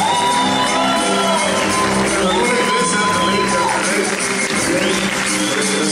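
Lively crowd cheering and clapping with whoops and shouts at a posthumous tribute event, loud and sustained throughout, dense and close.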